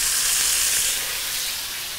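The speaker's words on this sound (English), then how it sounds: "we're gonna saute all of this in the same pan, including the turkey sausages" Peppers and turkey sausages sautéing in a pan, a loud, close, continuous sizzling hiss that eases slightly partway through.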